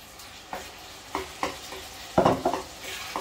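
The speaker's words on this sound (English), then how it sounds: "So now I'm gonna go ahead and add my tomatoes." Freshly cut tomatoes are stirred in a hot pan for callaloo, with soft sizzling under a run of quiet scraping stirs spaced about half a second apart.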